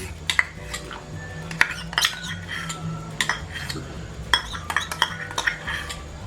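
Spoon stirring sugar and condensed milk into sheer khurma in a pot, with repeated sharp metal clinks against the pot over a low steady background hum, no talking.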